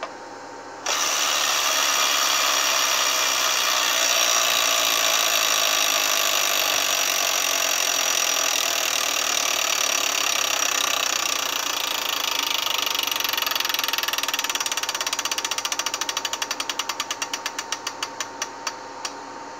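The wheel of an electronic tabletop Wheel of Fortune game spins with a dense, continuous mechanical clatter that breaks into slowing, distinct clicks near the end, with no one speaking.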